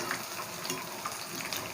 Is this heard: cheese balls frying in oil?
yes